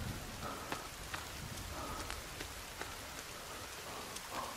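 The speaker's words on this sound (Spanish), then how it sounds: "Empieza a llover." Steady rain pattering down in the survival game The Forest on PS5, a dense even hiss with faint drop ticks and no voices.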